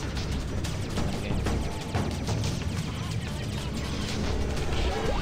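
Bursts and crashes of green explosions in the space game Freelancer pound over a dense, noisy battle soundscape with a voice talking throughout.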